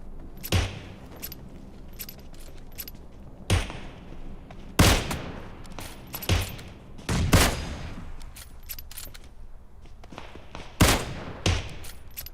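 Sniper rifle shots in a video game no-scope battle, about six sharp loud cracks spaced irregularly several seconds apart, each with a brief tail, over low background game ambience.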